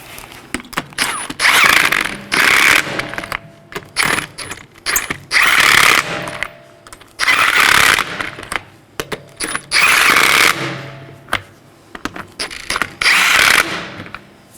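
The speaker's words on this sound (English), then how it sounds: "Now I'm going to snug these down in a crisscross pattern." Ratchet snugging the bolts on a Chevrolet Equinox front CV axle, bursts of rapid clicking pawl ratcheting repeated in close, loud runs separated by short pauses.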